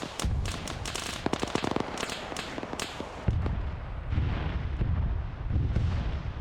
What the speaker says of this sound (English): Why do those sound like rockets flying by?